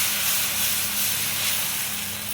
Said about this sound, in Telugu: దోశ కూడా దీనిపైన వేసేసాం